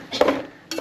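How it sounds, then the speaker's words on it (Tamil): A ladle clinks and scrapes against a pot while ground masala is stirred into fish curry, two short metallic knocks a fraction of a second apart, close and alone. "இதை ஊற்றிட்டு நல்லா ஒரு கிண்டுங்க பாய்ஸ்."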